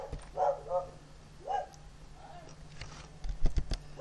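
A house dog barks in a few short, loud bursts, a cluster early and another later, with a faint steady hum and some clicks in the background and no speech.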